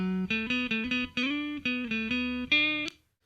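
Electric guitar run through the last cabinet model of the Softube Amp in Reason 8, playing a short phrase of eight or nine picked, sustained notes with harmonic overtones, clean and close, ending on a sharp final accent, with no talking.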